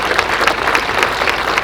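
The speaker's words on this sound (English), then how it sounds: "Big round of applause for them, please." Loud, dense applause from a crowd at an outdoor municipal band concert, many hands clapping together in a continuous wash for a brief moment, with no speech over it.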